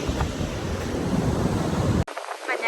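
Sea waves wash onto a beach near Sydney in a loud, continuous roar of surf with wind buffeting the microphone, cut off abruptly near the end.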